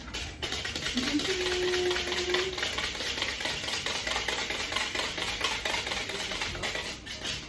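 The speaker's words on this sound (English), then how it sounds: "I just need to whisk that together" Whisking flour, baking powder and salt in a bowl for Christmas sugar cookies, a fast continuous scratchy rustling that runs steadily close to the mic.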